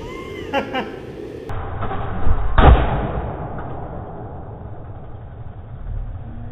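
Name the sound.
Subaru rally car engine backfire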